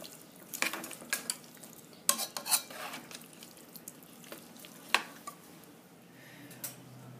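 A cheesy chicken and broccoli casserole mixture is gently stirred in a pot, with soft scrapes and a few sharper clinks of the utensil against the pot, irregular and close, without talk.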